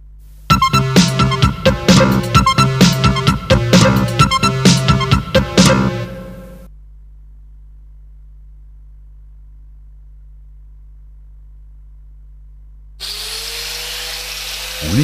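A fine grinding disc shapes tack-weld points into a bevel on the root side of a flat butt joint before the first weld bead. Loud, whining grinding comes in rapid, uneven bursts for about six seconds, then stops, leaving near silence before another noise starts.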